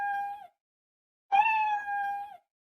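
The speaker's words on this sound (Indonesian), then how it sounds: "Kucingnya bunyi terus tuh." A cat meows twice, a short call followed by a longer, drawn-out one after a brief silence, close and clear.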